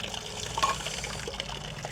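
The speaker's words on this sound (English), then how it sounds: "here there's a fountain with water, and the water comes directly from the mountain" Mountain spring water running from a roadside fountain by Lake Scanno, a steady soft splashing trickle with a brief brighter gurgle, fairly faint against the outdoor background.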